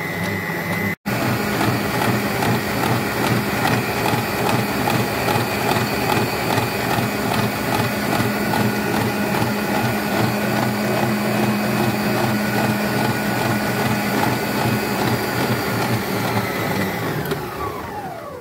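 Electric mixer whirring steadily as it beats semolina cake batter for boussboussa, a continuous mechanical drone with a rhythmic gear-like chatter that runs near and loud with no talking, then winds down at the very end.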